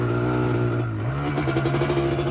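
A Yamaha Blaster ATV two-stroke engine runs loud and close, holding a steady buzzing idle before the revs climb into a rising, raspy whine.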